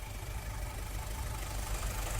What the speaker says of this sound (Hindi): ये 1500 सीसी CRDI डीजल इंजन